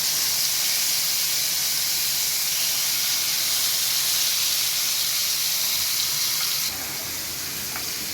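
Fish frying in well-heated oil in a home kitchen for a fish curry, a steady broad sizzling hiss running continuously and close, easing slightly in level near the end.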